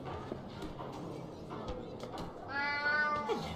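A cat meowing in the video game Alice: Madness Returns, a drawn-out wavering meow rising near the end over quiet background ambience and scattered taps.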